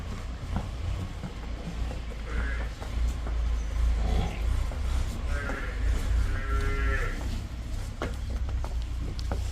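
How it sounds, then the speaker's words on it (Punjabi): Buffaloes on a farm give low moos and calls over a steady rumbling background, several calls spread across the stretch at moderate distance. "ਬਾਕੀ ਗੋਲ ਸਿੰਘ ਦੀਆਂ ਝੋਟੀਆਂ ਵਾ ਆ ਦੇਖ ਸਕਦੇ ਪੂਰੀਆਂ ਜੰਮੀਆਂ ਪਲੀਆਂ"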